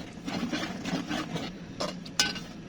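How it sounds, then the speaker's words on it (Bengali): Spoon scraping and stirring spices with chopped tomatoes in a pan while cooking rohu fish with potatoes, the masala catching on the bottom; soft repeated rubbing strokes, close, with a sharper clink near the end. "আমার এগুলো একটু নাড়তে হবে, তলা একটু লেগে আসতেছে।"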